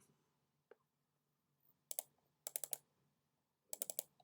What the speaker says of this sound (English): I'm going to look to double click on this curved shape.